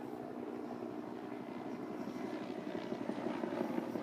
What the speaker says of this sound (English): Oh, that is definitely a military helicopter.